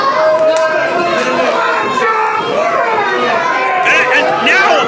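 An indie wrestling crowd at the Barre Elks Lodge jeers at a street fight, a loud continuous wash of overlapping shouts, boos and chatter with children's voices mixed in.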